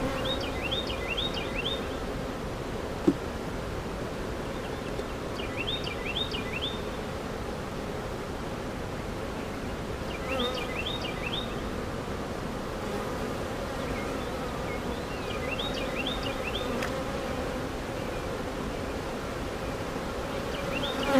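Honey bees hum and buzz in a steady drone over a hive frame heavy with capped nectar, the sound close and continuous, with a few brighter buzzing passes recurring every few seconds.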